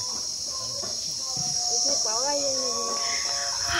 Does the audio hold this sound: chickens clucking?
no